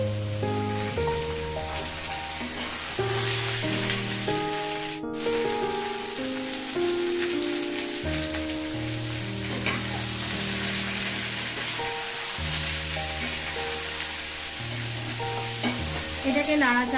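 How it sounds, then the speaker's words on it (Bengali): Ridge gourd and potatoes fry in a pan while being stirred: continuous sizzling and crackling with occasional scraping stirs, close and steady throughout, with soft music underneath. "এবার আমি এর মধ্যে ঝিঙেটা দিয়ে দিচ্ছি।"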